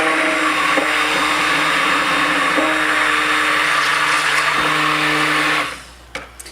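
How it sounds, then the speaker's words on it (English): A stick blender whirs loudly and steadily for several seconds while mixing cold process soap, then cuts off, leaving a few faint clicks. "I'm going to burp out my stick blender here"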